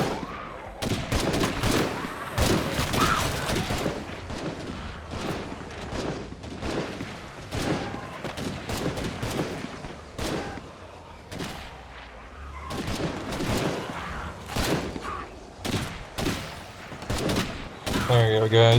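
Sustained gunfire in State of Decay 2, many sharp shots and short bursts scattered across the whole stretch at varying distance, with a voice speaking intermittently between the shots.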